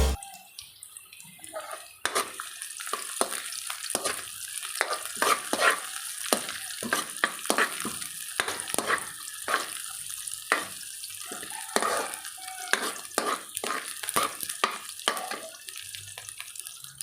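Garlic fries in a pan for a chicken liver dish, a close, steady sizzle with repeated scraping stirs and spatula taps, briefly quiet before the hiss starts.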